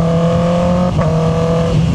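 A Honda CB650R E-Clutch motorcycle downshifts, a steady engine drone broken by a quick blip around the shift before settling at a new pitch, loud and close with no voices.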